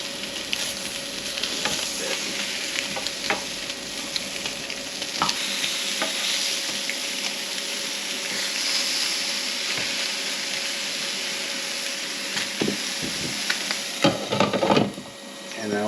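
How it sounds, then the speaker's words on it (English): Slices of Spam searing in a hot pan produce a loud, sustained sizzle with scattered spatula taps and scrapes, ending in a brief burst of clatter. "We're gonna get a nice sear on these."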